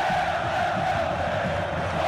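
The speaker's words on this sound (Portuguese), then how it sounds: "a torcida empurra o time para o ataque" A stadium crowd in FIFA 23 roars steadily through a Brasileirão Série B match between Sport and Mirassol, a continuous, dense wash of cheering with no pauses and no speech.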